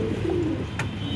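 A pigeon gives a single soft low coo, close by, against steady room noise, with a brief click partway through.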